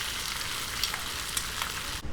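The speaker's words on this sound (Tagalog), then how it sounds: "intayin lang po natin siyang makrispy" Bacon sizzles and crackles in a frying pan as it cooks until crispy, a continuous close hiss with small pops throughout and no talking.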